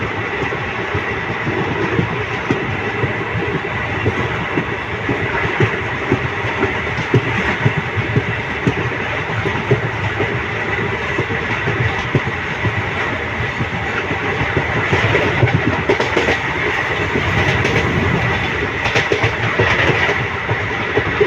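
A train runs through Kashmir toward Pampore station alongside the Jammu–Srinagar National Highway, with a loud, steady rumble and a continuous rapid rattle of wheels on rails from inside the carriage, and no talk.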